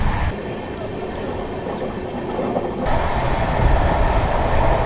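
Amrit Bharat Express rolling along in India, heard from inside a sleeper compartment: a steady rumbling train drone with a high whine that cuts off midway, followed by louder clatter as another train passes.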